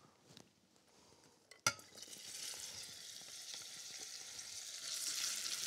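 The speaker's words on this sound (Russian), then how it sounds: "И теперь я просто высыпаю нарезанный лук прямо в сотейник." Chopped onion tipped into a hot sauté pan of well-heated oil: a brief clatter as it lands, then a steady, close sizzle that grows louder and fuller over several seconds, with no talking.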